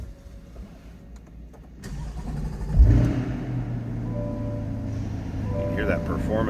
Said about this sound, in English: can hear that performance exhaust.